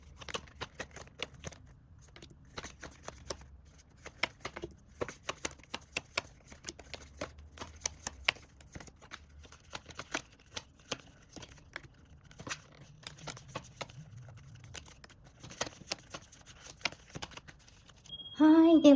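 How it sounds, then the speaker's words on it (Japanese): Tarot cards being shuffled by hand, a steady run of soft riffling slaps and papery flicks at close range, with no talking. "では C の方のシャッフルしていきたいと思います。"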